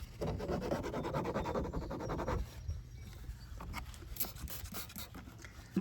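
A shop rag scrubbing surface crud off a 2009 Toyota Corolla gives close, steady rasping rubs for about two seconds, then lighter intermittent wipes and scrapes.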